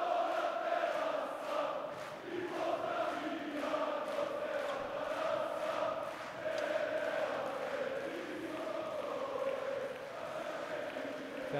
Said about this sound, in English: Fans with something to cheer about